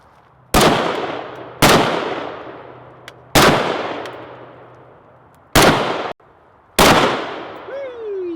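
Five loud, sharp gunshots from an 11.5-inch AR pistol, fired at uneven intervals outdoors, each crack trailing off in a long echoing decay, with a brief voice exclaiming right at the end.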